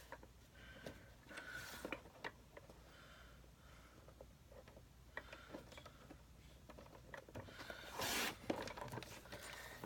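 Cardstock being cut down to a 1 by 5 inch piece for a handmade card on a paper trimmer, faint sliding and clicking of the blade carriage with a short louder swipe near the end, no talk.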